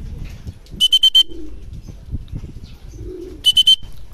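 Racing pigeons at a club training loft give low, soft coos, punctuated twice by bright bursts of rapid high chirping, nearby and fairly clear.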